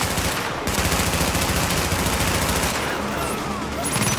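Grenade blast and sustained gunfire in the shooter video game Tom Clancy's The Division: a dense, loud, continuous barrage of rapid automatic shots that runs the whole time with no pauses.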